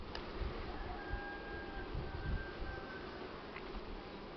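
A swarm of honey bees buzzing outdoors, a steady soft drone of many wings with occasional single bees passing closer, fairly quiet and unbroken, with no one talking.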